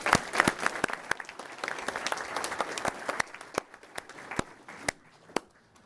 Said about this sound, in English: Round of applause for our plank holders.